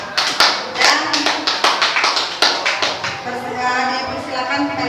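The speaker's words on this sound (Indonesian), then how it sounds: "Untuk kelompok 4 kita kasih aplaus." Classroom applause for group 4, a few students clapping unevenly, the claps close and distinct at first, then blending into a softer patter with murmuring as it fades.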